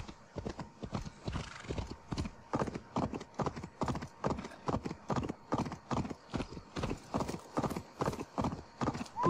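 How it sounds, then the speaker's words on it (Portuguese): Horse hooves clip-clop in a steady, rhythmic trot in Assassin's Creed Valhalla, each footfall distinct and close, continuing evenly throughout with no other sounds over them. "Tem uns cavalos aqui, vou roubar,"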